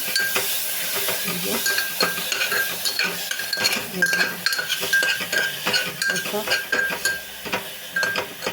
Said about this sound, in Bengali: আর এই যে এটা বাটার দিয়া এখন এটা লাড়াচাড়া দিয়ে তারপরে ফুলার লেগা বানানো